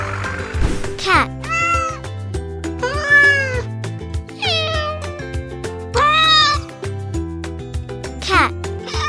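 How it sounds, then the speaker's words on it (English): A cat meows repeatedly in several drawn-out, tonal calls over a steady musical backing, loud and close, in a children's animal-sounds sequence. "Cat."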